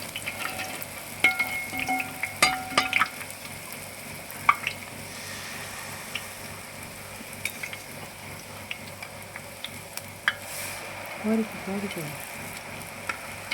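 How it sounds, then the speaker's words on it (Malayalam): Achappam rice batter frying in hot oil, a steady close crackle and sizzle punctuated by clinks and taps of the mould against the pan, with faint voices now and then. "ഓരോന്നായിട്ട് മാവിൽ മുക്കി മുക്കി നമ്മൾ എണ്ണയിൽ അച്ചപ്പിട്ട് കൊടുക്കുകയാണ്"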